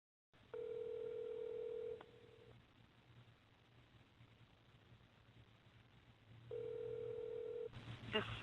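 Telephone keypad tones sound as an extension is dialed on a phone line: two steady, close beeps, each about a second and a half long, separated by a quiet stretch of line hiss.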